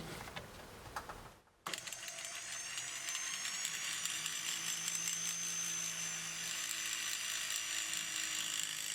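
A small drill bores holes into a 3D printed model railway wagon, giving a steady high-pitched whine close to the mic that runs nearly without a break after a brief pause near the start.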